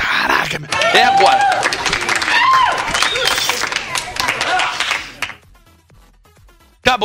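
Loud applause and cheering from a crowd at a live-streamed giveaway roulette fill the first five seconds, then quickly die away to near silence, followed by a short burst of noise.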